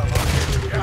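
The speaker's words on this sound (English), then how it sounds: "And now we get a gunfight." A Red Dead Redemption 2 gunfight fills the moment with a dense, rapid volley of overlapping gunshots, loud and close in a short burst.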